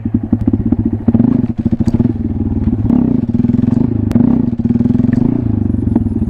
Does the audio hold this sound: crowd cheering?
no